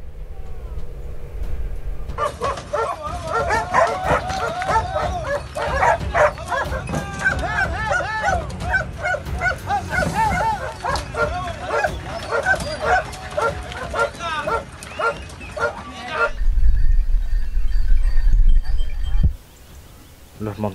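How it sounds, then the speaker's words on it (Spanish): A pack of hunting dogs bark, yelp and whine excitedly at a montería in a reforestation area near Oliva de Mérida, released from trucks; dense overlapping yips, a vehicle rumbling later, with voices in the background. "los perros soltados de los camiones, y ahora sí, comienza la montería"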